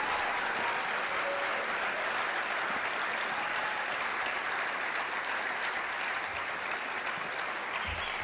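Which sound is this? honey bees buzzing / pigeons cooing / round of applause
round of applause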